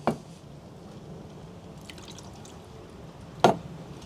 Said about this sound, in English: And I'm going to add all the juice that was left over.